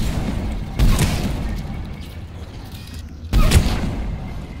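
Two loud, close explosion blasts in Mass Effect 3 multiplayer combat, each a sudden broadband boom with a rumbling tail, the first just under a second in and the second about two and a half seconds later, with busy battle noise between.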